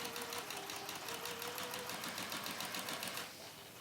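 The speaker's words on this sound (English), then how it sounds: "we may just as well quickly top stitch around, should you wish" A sewing machine topstitches around fabric for a drawstring bag, a steady, close mechanical hum with a fast stitching rhythm for over three seconds, then eases off near the end.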